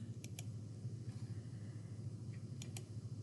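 Numbers and a plus sign typed on a keyboard: a few quiet, sparse key taps in two pairs over a low, steady background hum.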